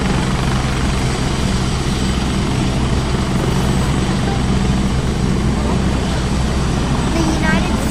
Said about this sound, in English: The United States donated these helicopters.